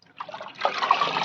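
Liquid fertilizer being stirred and mixed in a mug, a soft wet swishing and trickling that starts faint and grows steadier and a little louder, close by with no talking.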